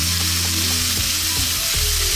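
Tomatoes and onions fry in a pan with a steady, close sizzle, soft stirring scrapes coming through now and then, no voices.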